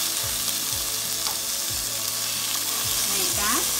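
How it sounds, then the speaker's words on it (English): Salmon sizzles as it goes into a hot pot over a potato base for a creamy seafood mix, a loud continuous frying hiss with several quick utensil scrapes and knocks spaced through it. "I'm going to add my salmon to the pot"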